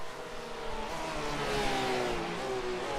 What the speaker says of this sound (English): You can already hear him downshifting.